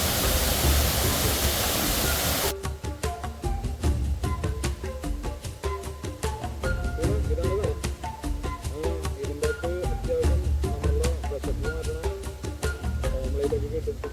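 A waterfall rushes right beside a roadside shop, making a dense, steady roar that is loud and alone at first, then continues under fainter mixed sounds and possible voices.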